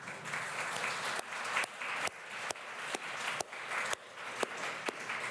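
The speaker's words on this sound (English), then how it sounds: "Keep on clapping as he makes his way up here." Steady audience applause at a First Nations health conference as an honoree walks up to the stage, dense and sustained with brief sharp breaks and louder bursts throughout.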